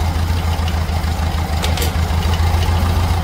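A 1979 VW Beetle engine with a 34 PICT-3 carburetor idles steadily and close by, a constant low, even rumble with no voices over it.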